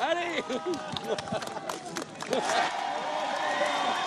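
Crowd at the Republican march in Paris breaks into applause and cheering, a dense patter of clapping under murmuring voices and shouts.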